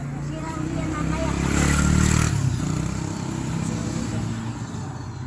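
A motorcycle engine runs steadily just after starting, a loud, close, rumbling idle that swells slightly in the middle and then settles, with some clatter alongside.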